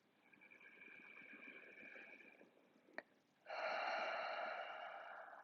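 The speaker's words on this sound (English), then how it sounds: "take 3 deep in and exhales all the way down into the pelvis" Slow deep breathing during a yoga session: a long, soft inhale, a brief sharp catch, then a louder, breathy exhale, close and alone.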